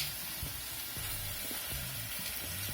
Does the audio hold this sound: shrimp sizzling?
yes